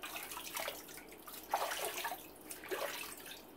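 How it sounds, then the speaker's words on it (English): Water rinsing shaving soap off a head, a soft splashing, running wash with a few brief louder gushes, close and moderately quiet. "we're going to go ahead and rinse our head off"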